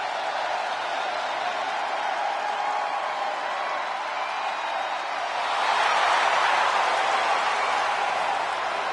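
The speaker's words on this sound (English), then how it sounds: "Listen to the people and how excited they are that the High Chief is in the building." A wrestling arena crowd in WWE 2K25 roars steadily and loud throughout, swelling into a bigger burst of cheering near the end, with no one talking over it.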